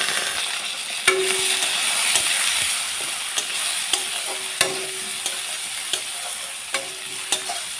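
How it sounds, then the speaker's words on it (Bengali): Eggplant slices fry in a pan with turmeric and salt for a Bengali pabda fish curry. A steady, close sizzle runs throughout, with sharp utensil clicks and taps at irregular intervals and no talking. "এখন আমি বেগুনগুলোকে ভেজে নেব"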